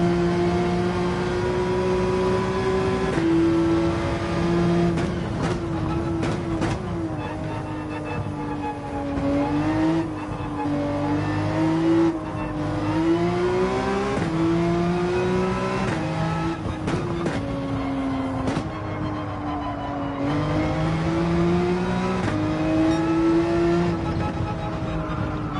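A race car engine in Gran Turismo 7 revs loudly and continuously through a daily online race, pitch climbing and dropping with each gear change, with occasional faint tire squeal and no talk.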